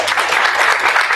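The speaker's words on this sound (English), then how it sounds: "one more round of applause for the academic" A short, dense burst of audience applause at an academic science and business gathering, loud and sustained with no pause.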